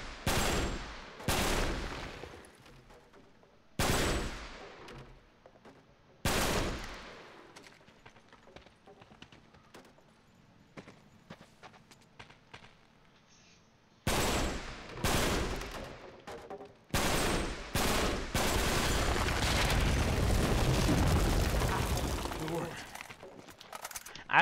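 Sharp gunshots in Uncharted 3: Drake's Deception, loud isolated bangs spaced seconds apart, then a dense stretch of rapid fire and debris toward the end, with someone talking in between.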